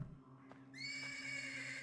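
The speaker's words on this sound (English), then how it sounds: "persistent neighing of a horse can be heard from the stables." A horse neighs from stables in a video game, a sharp whinny rising after a brief quiet start and trailing on over a steady low ambient hum.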